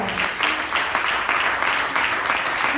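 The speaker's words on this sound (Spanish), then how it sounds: "Dele palmas al Señor." A church congregation claps their hands together in a steady, dense burst of applause that fills the room, loud and sustained throughout.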